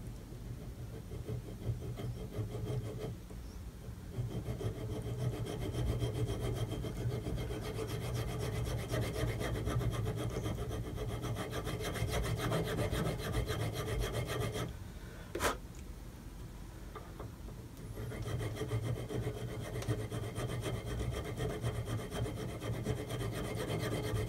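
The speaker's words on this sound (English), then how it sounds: "I think these nut files are going to work out really well." Continuous rasping of nut files cutting a bone nut on a Fretwire kit guitar, steady close scraping strokes that run nearly the whole time with a brief pause partway through.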